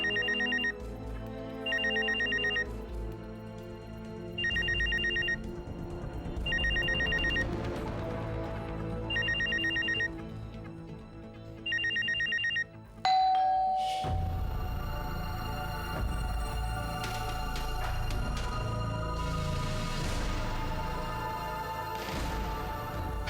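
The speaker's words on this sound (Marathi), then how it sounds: "रिंग जाते आहे पण उचलत नाहीये." A telephone ringtone repeats in about six evenly spaced bursts with short pauses between them and goes unanswered, then gives way to a fuller, busier sound.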